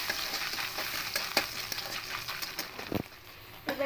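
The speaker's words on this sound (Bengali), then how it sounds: "একটু নারকেল কুচি করে রেখেছিলাম নারকেল কুচিটা হালকা করে ভেজে নেবো" Chopped coconut fries lightly in a little oil, a soft crackling sizzle broken up by scraping stirs and a few small clinks of a spoon against the pan.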